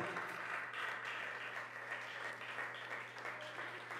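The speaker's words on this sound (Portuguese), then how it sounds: "Aplauda ao Senhor, aleluia" A church congregation applauds the Lord during a sermon, a soft, distant wash of continuous clapping with a steady low hum underneath and no clear voices.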